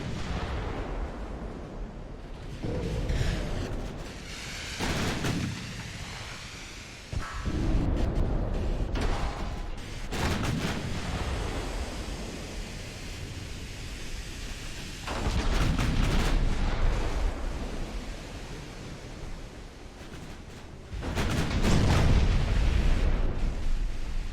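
Heavy battleship gun salvos in the naval warfare game Ultimate Admiral: Dreadnoughts, with a dreadnought battling modern cruisers: repeated deep booming blasts at irregular intervals, loud and close, with rumbling tails between shots and no talk.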